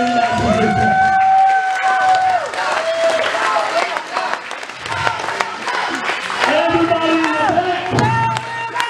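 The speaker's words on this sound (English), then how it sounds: "give this man a round of applause for the 30-minute exhibition" A wrestling crowd applauds and cheers after a 30-minute career-versus-career heavyweight title match, with clapping and shouts rising and falling around a loud voice talking over it.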